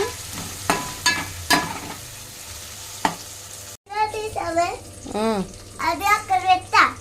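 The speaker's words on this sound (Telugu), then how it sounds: "ఉల్లిపాయలు కూడా ఫ్రైస్ వచ్చేసి ఫ్రై అయిపోయినాయి" Onions and ginger fry in a pan with a steady sizzle and occasional stirring scrapes, and a voice chatters over the cooking in the second half.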